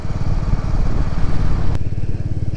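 Motorbike engines roar steadily on a road, a loud continuous rumble with a brief sharp click partway through.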